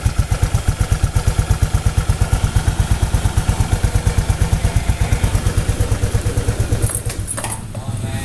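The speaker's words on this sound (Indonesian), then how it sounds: "Suaranya NX2 kayak gini." Honda NX2 motorcycle engine idling close by, a loud, fast, regular putter of even pulses that fades at the end into a brief clatter.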